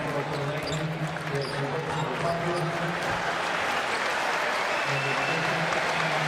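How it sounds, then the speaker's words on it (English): Crowd applause at a Tulane vs North Carolina NCAA basketball game, a dense steady clapping from a large audience with basketball bounces and a voice talking over it. "Nice round of applause for Huffman as he takes his seat."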